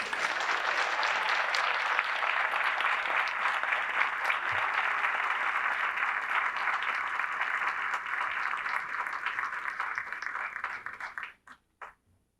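An audience at an awards ceremony applauds a veterinary service winner with sustained, even clapping for about eleven seconds before it quickly dies out, leaving a few final claps.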